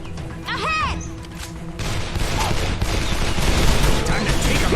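Gunfire in the Xbox 360 video game Call of Juarez The Cartel, a dense burst of rapid shots and impacts under shouting voices, with a rising whine early on and steady loud crackling throughout.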